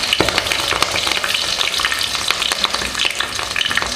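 Curry leaves and slit green chillies sizzle loudly in hot oil in a pan for Chettinad chicken gravy, with a spoon scraping and stirring through a continuous crackling fry.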